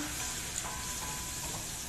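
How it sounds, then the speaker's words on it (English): Onions sizzle in hot oil in a pan, a steady close crackling hiss with small pops throughout and no talk. "Then I add the onions, and you can hear that sizzle."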